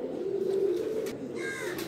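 Cheena pigeons, a breeding fancy breed, coo in a low steady rumbling call close by, with faint chirps near the end.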